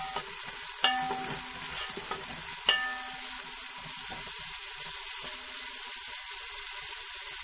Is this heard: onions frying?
yes